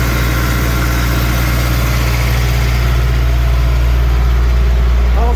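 A tractor idles with its hydraulic system sucking air through filters clogged with sludge, a loud continuous low engine drone with a steady hum and faint whining texture, close up and unbroken.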